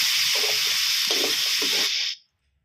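Garlic chicken, cooked dry style, sizzles loudly while being stir-fried in a pan, a steady close hiss with faint stirring scrapes that cuts off abruptly near the end.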